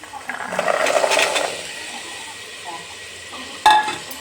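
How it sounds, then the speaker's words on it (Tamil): Green peas being stirred into ginger garlic paste in a pan for matar pulao, a soft scraping stir with faint sizzle for about a second, then quiet cooking hiss and a brief clink near the end. "அதையும் கலந்து விட்டுறேன் இந்த பச்சை பட்டாணி"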